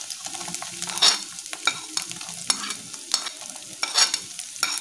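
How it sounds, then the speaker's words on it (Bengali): Chopped green chilli and onion going into hot oil with ginger and garlic for a breakfast sandwich filling, a lively sizzle broken by repeated scraping strokes of a spoon stirring the pan, close and alone. "এবার আমরা কাঁচা লঙ্কা কুচিটা দেবো আর পেঁয়াজ কুচিটা দেবো।"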